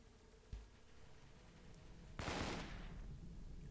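Video game gunfire aimed at the player: one sharp shot, then a louder burst of rapid fire that rings out and fades into a steady background rumble.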